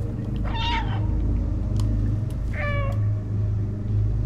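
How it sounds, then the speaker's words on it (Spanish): Cat meowing inside a video game: two distinct meows, one near the start and one later, standing out clearly above a steady low rumbling game background, with no talking. "Creí haber escuchado otro maullido."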